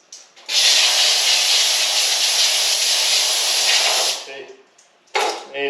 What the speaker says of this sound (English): take your air nozzle.